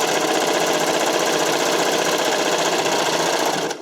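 A serger runs steadily at full speed, stitching stretched narrow elastic onto a waistline. The rapid, loud mechanical whirr continues without a break and stops abruptly at the end.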